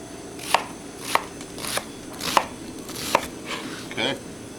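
A knife chops a yellow onion on a cutting board in a kitchen, six or seven distinct, fairly close knocks at a steady, unhurried rhythm, with no talking.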